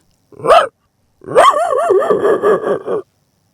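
A man imitates a dog with his voice: one short sharp bark, a brief pause, then a longer wavering run of yelping, whining barks, loud and close in a quiet room.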